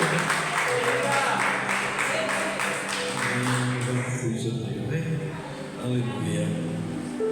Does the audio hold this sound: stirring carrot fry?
no